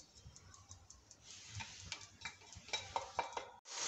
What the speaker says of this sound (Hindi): टमाटर ऐड करने के बाद भी अच्छे से मिक्स कर लेंगे।